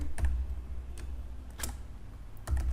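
Fingers tap out Python code on a computer keyboard, with scattered individual keystrokes and a few sharper clicks at an uneven pace, close and clear with no talking.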